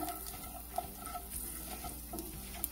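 Dried manathakkali berries frying in hot oil, a soft steady sizzle with faint stirring clicks, quiet and close, no talking.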